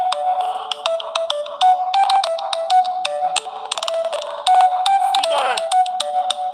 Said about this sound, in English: Your phone a ring, Philip.